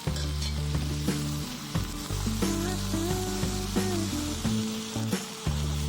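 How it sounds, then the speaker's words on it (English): Tomatoes land in a hot pan of oil and sizzle steadily, a dense continuous crackle with occasional spatter pops and stirring clicks, close up with no voices. "I'm adding some tomatoes over it."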